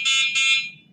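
Short double beep from the horn of a CRONY V10 electric scooter, loud and close, two quick shrill blasts run together.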